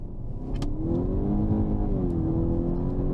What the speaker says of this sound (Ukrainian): Раз, два, три, газ в пол.